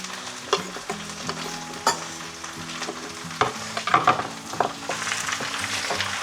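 Potatoes frying in a pan sizzle softly and steadily while a utensil stirs them, scraping and knocking against the pan several times at irregular moments, close and fairly quiet, with no talk.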